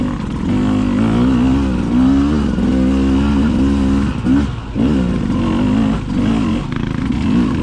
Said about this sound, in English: I hit that stump, kept the bike running because I pulled in the clutch